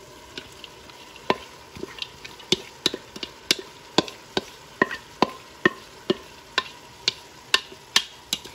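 Purslane stirred and fried in a pan for quesadillas, with a steady run of sharp utensil scrapes and knocks against the pan every fraction of a second over a low sizzle, close and alone.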